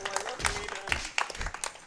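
Audience applause at an ESA Summer 2018 speedrun event for Tony Hawk's American Wasteland: a short, moderately loud burst of scattered clapping with uneven peaks and some crowd noise.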